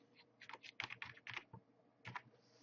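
Close keystrokes on a computer keyboard while text is entered in Microsoft Word, quick irregular clicks in a short burst, a pause, then a few more taps.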